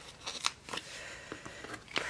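Small craft scissors snip paper stickers several times at an uneven pace while decorating a planner, with light, crisp cutting sounds close up and soft rustling between them.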